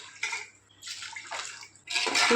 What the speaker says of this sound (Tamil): மூணு உலக்கு தண்ணி சேர்த்துக்கிறேன்